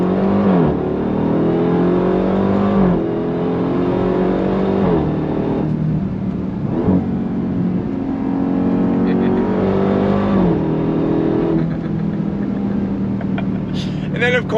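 A supercharged 2025 Dodge Durango Hellcat Hammerhead SUV engine revs hard on throttle, loud and close, rising in repeated surges with gear changes between them, under a brief voice near the end.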